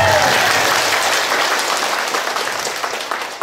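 An audience breaks into sustained applause at an Islamic humorous sermon, a dense, loud wash of clapping that gradually tapers over a few seconds with no voices over it.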